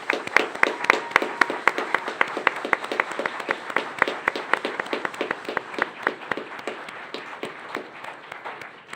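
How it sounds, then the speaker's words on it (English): An audience at a school district governing board meeting gives steady, sustained applause for a new board member, with many overlapping hand claps at a moderate level continuing throughout. "Let's give new governing board member Seisha Napa a big round of applause."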